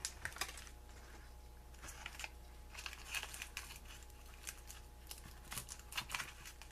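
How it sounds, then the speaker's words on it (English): Scissors snipping sticker paper for a handmade Valentine's card, a run of quick crisp cuts and paper crinkles, faint and close, alone. "these scissors don't cut cloth or anything like that very well"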